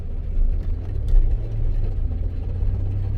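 A Chevy Suburban in two-wheel drive coasts with no throttle, giving off a steady low rumbling drone with a faint whirring layer on top. The noise holds at an even, moderate level throughout, and nobody speaks.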